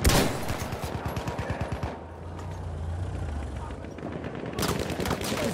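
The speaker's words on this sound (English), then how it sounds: "There's an enemy machine gun." Machine gun fire in a Battlefield 1 Conquest match: rapid, evenly spaced bursts for about two seconds, a short lull with a low rumble, then more gunfire near the end, loud and close.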